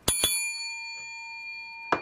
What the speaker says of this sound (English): Rates an extra bell.